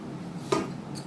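A lid is set onto a pot of chicken tehari with one short metallic clank. A faint clink follows, and low kitchen background sits underneath.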